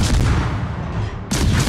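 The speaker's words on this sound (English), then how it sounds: "Continually gives the Bourdon a nice clean broadside." Naval guns fire a broadside in World of Warships, loud booming blasts at the start and again near the end, with a heavy rumble between them.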